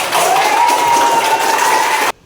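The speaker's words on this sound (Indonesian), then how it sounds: "Kasih tepuk tangan dulu." Classmates in a lesson applaud together in a loud, dense burst of clapping that holds steady for about two seconds, overlaid by a faint whistle-like tone, before stopping abruptly.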